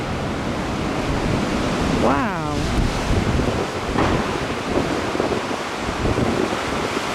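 Heavy ocean surf roaring around a surfer riding a big slab wave, a constant loud rush of breaking water mixed with wind buffeting the microphone, and one brief exclaimed voice partway through.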